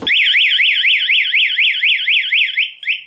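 Anti-theft alarm on a Honda Scoopy-i motorcycle wails loud and close, a rapidly warbling siren that sweeps up and down in steady repeated cycles for about three seconds before briefly cutting off.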